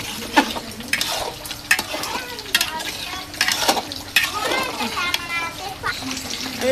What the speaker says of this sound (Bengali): আমি মাংসের মধ্যে আলুগুলো দিয়ে দিছি। এখন আলুগুলো অল্প একটু কষাবো।